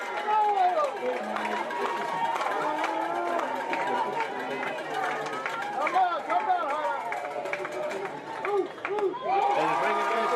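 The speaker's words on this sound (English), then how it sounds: "You can hear the Jersey fans going loud, and they're cheering for their jerseys." Crowd of Falfurrias Jersey Bulls fans at a UIL 3A high school baseball area playoff game against the Bishop Badgers, a steady loud roar of cheering and chatter from many voices throughout, with brief dips and swells.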